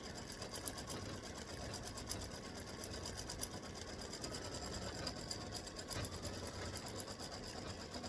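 An embroidery machine stitches a free-standing lace bee body, running a steady, continuous mechanical whir with rapid needle pulses at a constant close level throughout.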